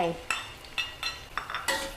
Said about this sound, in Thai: ผัด ให้หอมสุกเลยค่ะ